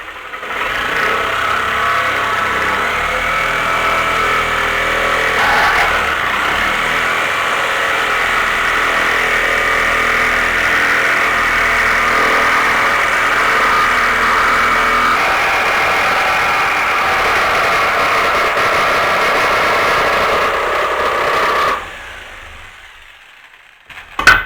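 A jigsaw cuts through a wooden floorboard with a loud, steady, continuous buzzing whine, running close by for over twenty seconds before stopping abruptly.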